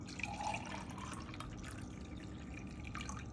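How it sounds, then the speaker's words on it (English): Water being poured from a one-cup measure into a pot while cooking dinner at home, a close, steady trickling and dripping pour that runs for a few seconds, with no talk over it. "now, we're gonna use water. 1 cup of water."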